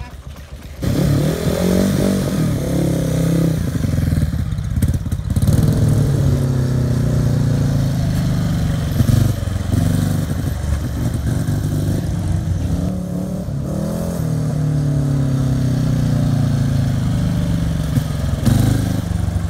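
A motorcycle or small engine with a worn, burnt-out clutch idling and revving loudly for the whole stretch, pitch rising and falling as the throttle opens and eases off.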